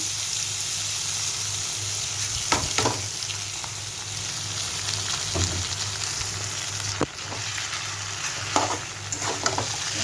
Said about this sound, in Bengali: এখন চাউমিনগুলোকে ঢেলে দিচ্ছি।